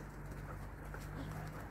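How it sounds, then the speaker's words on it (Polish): Soft, low pigeon cooing repeats steadily through a continuous outdoor background hum, with no one speaking. "Widzisz gołębie, Kabi?"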